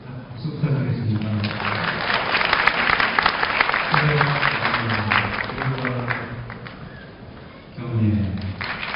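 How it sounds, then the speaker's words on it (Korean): Steady crowd clapping at a university graduation ceremony, sustained throughout with a brief swell near the end, under intermittent voices. "박수 부탁드리겠습니다"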